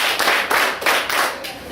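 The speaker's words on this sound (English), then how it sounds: "let us give them awesome 5 claps" Classroom audience at a school debate claps in unison five times, sharp loud claps in an even rhythm.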